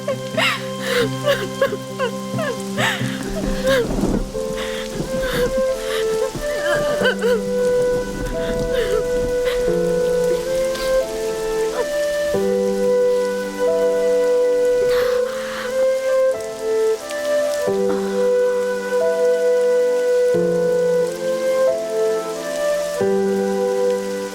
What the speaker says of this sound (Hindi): बारिश हो रही है बेटा।